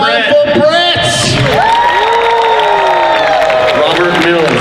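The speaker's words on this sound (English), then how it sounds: "loudest applause wins this award" Costume contest audience at a Labor Day weekend fan convention in Atlanta cheers, whoops and applauds loudly and continuously, a dense crowd roar with shouted voices rising over it.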